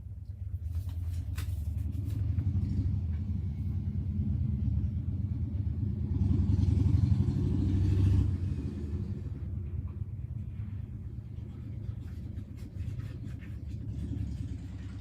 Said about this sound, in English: I hear motorcycles outside like that.